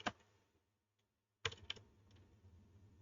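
Quick keystrokes typed on a computer keyboard while searching for PowerShell in Windows 10, a short cluster of clicks, a pause, then another faint burst of taps.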